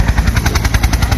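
A helicopter at a police arrest scene, its rotor producing a loud, rapid, steady chopping thump close by, with no talking.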